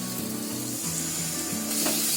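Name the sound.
yogurt added to sizzling gravy for nawabi paneer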